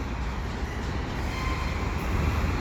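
A CP mixed freight train of new grain hopper cars rolls past close by in a continuous loud rumble and rattle of wheels, with no voices.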